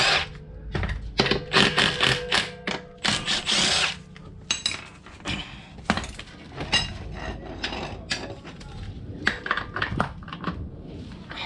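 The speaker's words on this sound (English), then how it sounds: "Get these lugs off." A power tool with a 20 mm socket removes the wheel lug nuts on a 2016 Honda Odyssey, giving loud close repeated whirring bursts with short pauses and rattling between them.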